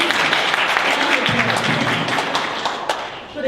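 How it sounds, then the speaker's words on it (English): An audience at a Lake Macquarie City Council mayoral candidate event gives a few seconds of steady, close applause, with voices mixed in. "Can we give you a clap?"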